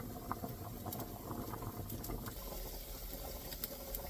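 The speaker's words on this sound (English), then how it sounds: "it is still boiling." Pot of water boiling for pasta gives a soft, steady bubbling patter with small pops scattered throughout, fairly quiet and close, no voices.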